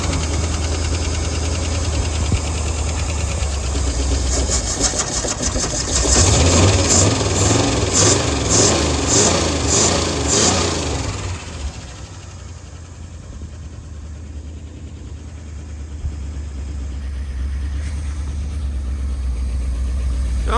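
A 1958 Edsel car engine runs steadily at idle, a loud continuous rumble with a burst of faster revving in the middle before settling back to an even idle.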